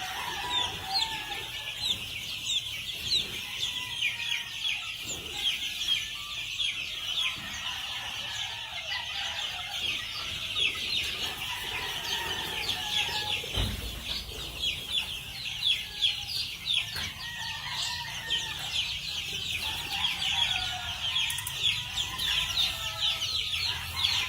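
Many gamefowl chickens cluck and crow together at a gamefowl farm in the morning, a dense, steady chorus of clucks layered throughout with occasional rooster calls rising over it.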